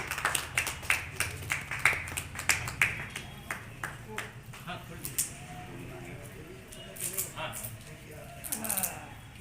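Scattered hand clapping at a book release and poetry gathering for Rajgarh poet Pandit Radharaman Tripathi, distinct claps in a loose rhythm that thin out after a few seconds, with voices talking underneath and later.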